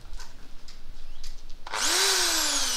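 A 1,010 watt electric drill whirs up to full speed after a stretch of quiet room tone, its high motor whine holding steady and loud, close by.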